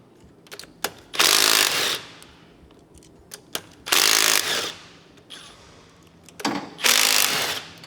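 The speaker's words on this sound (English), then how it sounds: "So now I will be able to unbolt this whole entire rocker stand and pull it off." A hand ratchet unbolts an engine's rocker stand in three separate bursts of quick clicking, each lasting under a second, with small knocks and taps of metal parts between them.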